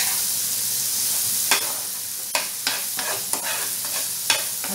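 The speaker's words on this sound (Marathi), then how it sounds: "आपण हे छान परतून घ्यायचं आहे." Green vegetable pulao with garlic, chilli and coriander paste, peas and beans sautéing in a pan, a steady sizzle broken by several scraping stirs of a spoon, with no talking.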